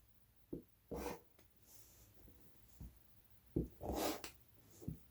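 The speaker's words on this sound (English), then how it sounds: "I'm just going to make some cuts." Fabric is cut for an improv quilt in a series of separate, quiet snips and slices, with soft rubbing in between and a near but faint sound overall.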